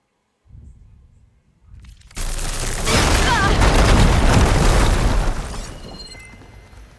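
A single heavy explosion booms in the video game Horizon Forbidden West, preceded by quiet footsteps and followed by a loud, sustained rumbling roar that slowly fades.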